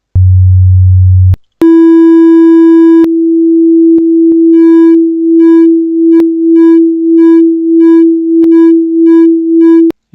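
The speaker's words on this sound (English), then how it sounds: "You hear one of the sine waves cancelling the other two out." Steady pure sine tones from a software synthesizer sounding together, one low hum then a bright harmonic-rich tone, settling into a regular pulsing wobble as the waves drift in and out of phase, one cancelling the others.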